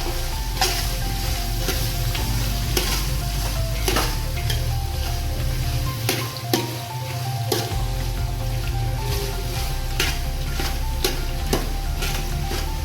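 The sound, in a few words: tempering sizzling in oil and ghee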